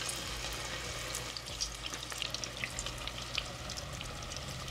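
Marinated cauliflower frying in hot oil gives a steady, close crackling sizzle with brief pops scattered through, holding even from start to finish with no voices.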